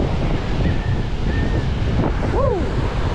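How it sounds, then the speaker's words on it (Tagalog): Big ocean waves crash and roar under strong wind during a southwest monsoon storm, a continuous loud surf wash with heavy wind buffeting on the microphone and a brief whistling tone over it. "Palaki ng palaki ang mga alon."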